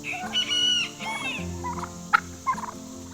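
Turkeys gobble in a quick, warbling burst, with more fowl calls and a few sharp clucks following nearby; no talking.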